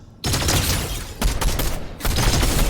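Sustained bursts of gunfire in the Fortnite video game, loud and dense, with rapid shots filling the whole stretch apart from a brief lull near the start and another short dip before the firing resumes.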